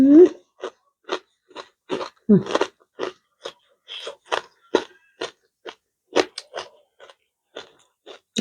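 Crispy pork cracklings bitten and chewed up close, giving a steady series of sharp, dry crunches separated by short pauses.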